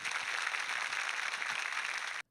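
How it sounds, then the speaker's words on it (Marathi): A studio audience on a Marathi music show claps hard for veteran artists, a dense, steady round of applause that stops abruptly. "त्यामुळे खरंच ह्या सगळ्या दिग्गजांसाठी एकदा जोरदार टाळ्या"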